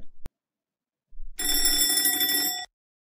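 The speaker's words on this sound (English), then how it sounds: "The bell is ringing. Class is about to start." A school bell rings before class starts, one bright sustained electric ring of about a second and a half after a short click, close and alone with no talk.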